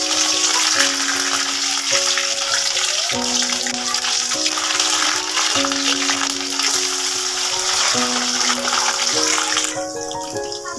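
Whole onion, whole garlic, ginger and green chillies sizzle steadily in hot oil with whole spices for a chicken dish, a continuous bright frying hiss under sustained background music.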